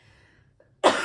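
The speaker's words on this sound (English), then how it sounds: "Sorry, I have to cough." A single sharp, close cough from a person sick with the flu bursts out after near silence, harsh and loud, trailing briefly.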